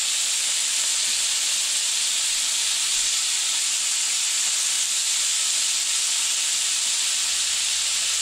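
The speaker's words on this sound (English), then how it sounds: "so you can just enjoy that sweet, sweet sizzle" Steady, loud sizzling hiss of cheesesteak meat frying on a hot griddle, continuing evenly throughout with no talking.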